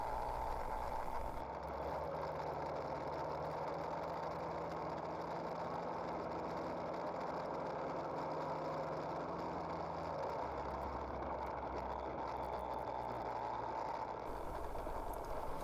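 An Aerolite 103 ultralight aircraft engine drones steadily throughout a takeoff run, a constant mid-pitched hum with slight variations as the throttle is eased back, heard at moderate distance with wind noise.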